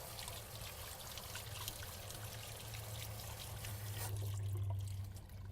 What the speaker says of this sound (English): we're going to drain them and get them a quick wash off